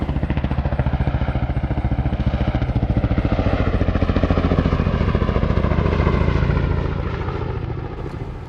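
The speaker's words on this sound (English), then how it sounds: "Solomon, I'll let you throttle the pump down and then I'll run it over to when we're full" A small engine-driven water pump drones loudly and steadily nearby at a firefighting water fill, then its pitch and level ease off toward the end as it is throttled down, with no voices.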